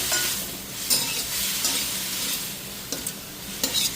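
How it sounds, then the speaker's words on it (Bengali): Prawns fry in hot oil in a pan as a spatula stirs them, a steady close sizzle punctuated by several scraping knocks. "একদম হালকা করে চিংড়ি মাছগুলো ভাজবে"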